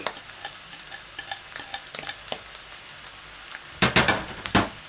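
Garlic frying in a pan with scattered soft crackles and stirring ticks, growing into a few louder bursts of sizzle near the end, with no voices.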